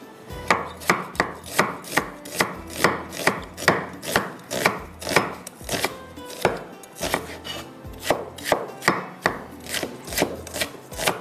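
Onions being chopped on a board for a beef pasta dish, a steady run of crisp knife strikes, about two per second, close and clear with no talking.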